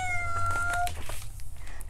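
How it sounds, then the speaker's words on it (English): A cat gives a faint, high meow heard through a window during a bilingual children's story about firemen rescuing a cat. The short, thin call sits over a low steady hum with no talking. "Through a window, faint meow."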